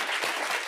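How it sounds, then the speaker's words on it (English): Brief, steady burst of audience applause for panelists, including Microsoft's Vice Chair and President and the IMF's Dr. Georgieva, at an AI panel event; dense clapping throughout with no talk. "Please give them a nice round of applause to warm them up,"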